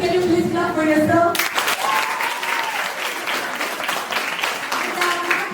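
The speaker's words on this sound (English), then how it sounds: "Congratulations, can you please clap for yourself?" Participants at a school debate competition break into warm, sustained clapping right after a short spoken line, the applause filling the room steadily until the end.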